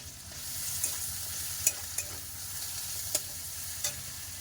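Fish and prawns frying in a pan with onions give a steady, quiet sizzle, with a few soft clicks and scrapes from stirring now and then.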